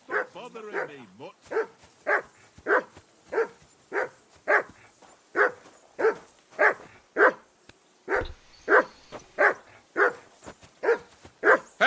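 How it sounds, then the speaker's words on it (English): A dog barking in Kingdom Come Deliverance 2, a run of about eighteen evenly spaced loud barks close by, with a brief whimpering yelp at the start. "Henry! Call that dog to heel!"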